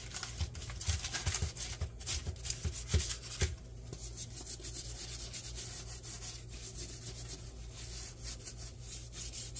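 Butter being spread across a bread pastry with a knife, making soft scraping rubs. A few sharper strokes come first, then a steady, even smear continues to the end.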